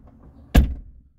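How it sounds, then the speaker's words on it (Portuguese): Car trunk lid being shut on a vehicle checked for a battery-draining fault: one solid, close thunk with a short low resonant decay, in an otherwise quiet setting. "Ô, Paulo, pode fechar o porta-mala?"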